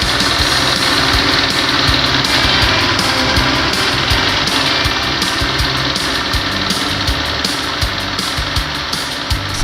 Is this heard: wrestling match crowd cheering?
no